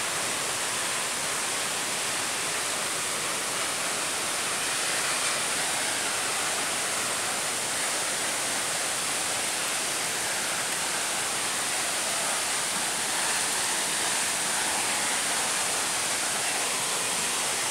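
Pedra Branca waterfall in Tres Forquilhas, Rio Grande do Sul, Brazil, swollen after a week of rain, gives a loud, unbroken roar of rushing water close by, with no voices.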